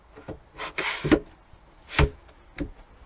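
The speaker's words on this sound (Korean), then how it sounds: "상판을 들어서 다리 위에다가 올려서" A merbau wooden tabletop for a camper-van long table is lifted and set onto unfolded legs, giving a few sharp wooden knocks and brief scraping rubs in an irregular sequence, close and fairly loud, with no talking.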